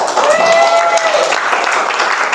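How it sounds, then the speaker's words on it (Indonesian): Brief classroom applause from a group of students, a dense wash of clapping hands at close range, with a short tonal squeak or whistle near the start. "Oke, kita beri tepuk tangan"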